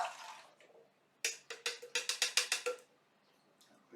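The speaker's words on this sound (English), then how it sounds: "I'm going to drain them." Canned chickpeas being drained through a small colander, giving a quick run of about a dozen sharp, rhythmic clattering pulses at close range, with quiet before and after and no talking.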